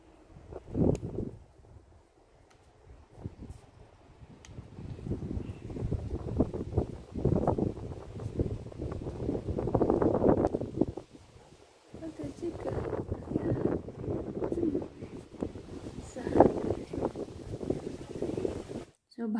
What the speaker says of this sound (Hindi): कितनी तेज हवा चल रही।